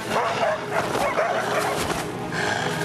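Dogs bark and yelp excitedly in a noisy, continuous commotion, with overlapping calls and no clear pause.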